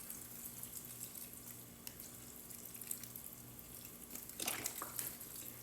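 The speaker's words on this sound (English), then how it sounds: "you just want to get these moistened with your vegetable broth" Vegetable broth poured over bread for vegan stuffing makes a faint, steady liquid trickle with a short stronger splashing pour near the end, close and quiet with no speech.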